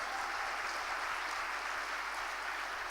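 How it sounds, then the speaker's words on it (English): A live audience applauds, a dense, steady wash of clapping that stays even and moderately loud for the full few seconds, with no speech over it. "Come on, give him a big round of applause."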